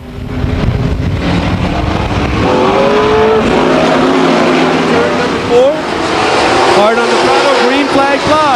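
Race cars roar around Stockton 99 Speedway in 1999, engines loud and continuous with rising and falling pitch as they accelerate and pass, under a commentator's steady talk.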